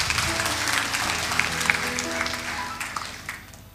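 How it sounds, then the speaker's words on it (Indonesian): Audience applause at a 2013 graduation ceremony in Kupang for a provincial health official, a dense, steady clatter of many hands clapping that fades slightly toward the end. "Kita beri aplaus untuk beliau"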